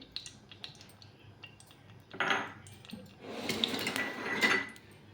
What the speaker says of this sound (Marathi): आता मी इकडं कढई ठेवल्या आता मी जर तेल टाकते